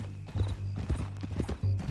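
A horse in the video game Red Dead Redemption 2 snorts and whinnies over clip-clopping hooves, the sounds close and loud in a short burst with brief pauses.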